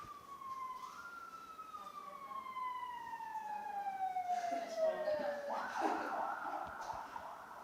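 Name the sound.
ambulance siren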